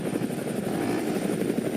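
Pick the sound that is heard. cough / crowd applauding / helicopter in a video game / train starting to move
helicopter in a video game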